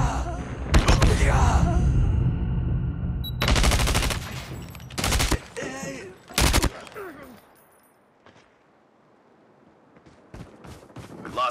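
Gunfire in Call of Duty Mobile on the Nuketown map: dense bursts of automatic fire in two or three loud clusters, then isolated shots and a quiet gap before faint later shots, with game voice callouts heard between bursts.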